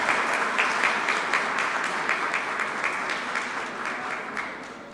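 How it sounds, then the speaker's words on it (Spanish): An award ceremony audience gives sustained applause, a dense crackle of many hands clapping at a steady level that slowly thins toward the end. "Aplauso para la doctora Leandra Onamey Tapia."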